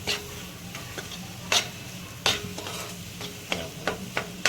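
Masala for a fish curry is stirred as it fries in a pan, with a soft continuous sizzle broken by repeated scraping strokes of the spoon, close and alone.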